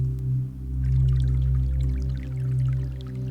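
Flowing water from the Giving Waters sample played back in Ableton, a steady droning wash with scattered bright trickling drips over a deep sustained tonal bed, continuous and fairly loud.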